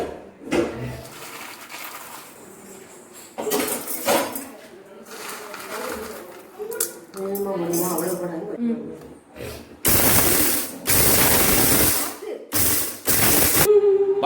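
A mixer grinder whirs in loud bursts with a small jar of roasted ingredients, pulsing on and off in short runs near the end after quieter kitchen sounds and talk.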